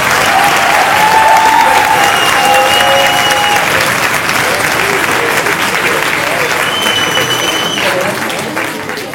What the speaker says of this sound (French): maintenant je voudrais un tonnerre d'applaudissements pour l'équipe 6 période.